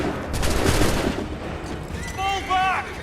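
Musket volley in Assassin's Creed III, a dense burst of gunfire cracking together up close, then rumbling and fading, with shouting voices and a horn-like tone rising near the end.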